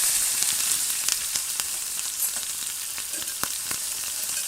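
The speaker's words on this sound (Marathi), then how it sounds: "आता आपण ह्यात कांदा घालूया। हा कांदा मी 2 कांदे घेतले बारीक चिरून।" Two finely chopped onions sizzling in hot tempering oil for an amti, a bright continuous frying hiss with a few scattered crackles and light stirring clicks, heard close with no voices.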